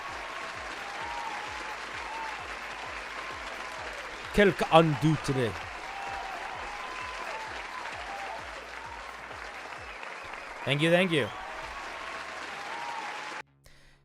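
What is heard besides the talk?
round of applause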